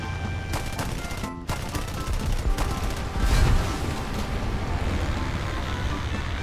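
Seafire aircraft's Hispano cannons and 7.7 mm guns firing in War Thunder, rapid sustained bursts of automatic gunfire over a steady engine drone, loud and continuous with a few brief gaps.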